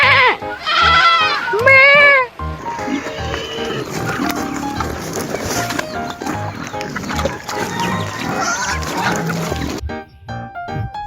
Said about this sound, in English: I'm surrounded by lambs at the moment.